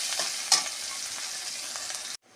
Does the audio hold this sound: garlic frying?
yes